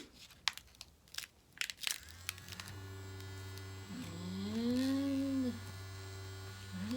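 Homemade ArtBot with a small motor and markers on paper: handling clicks and rustles, then a steady electrical hum starts and runs continuously, with a rising whirring tone as it draws.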